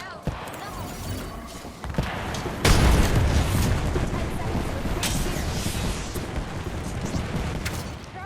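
A frag grenade goes off in Apex Legends, a loud boom landing midway through amid ongoing gunfire and game noise, with a player's voice heard around it.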